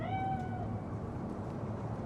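A cat in the video game Cyberpunk gives a single short meow at the start, clear and close, then a low ambient hum carries on alone.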